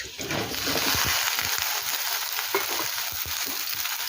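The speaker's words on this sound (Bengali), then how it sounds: "এখন দেবো লম্বা করে কেটে রাখা ঢেঁড়স।" Long-cut okra goes into a pan of potatoes already fried reddish and softened under a lid, setting off a steady loud sizzle with intermittent scraping stirs throughout.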